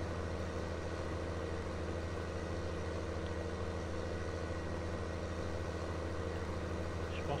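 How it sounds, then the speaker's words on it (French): A small tractor's engine in the Farming Simulator 19 video game hums with a steady low drone and constant tone under heavy load, unbroken and with no speech. "Je crois que je lui en demande un peu trop à ce tracteur-là."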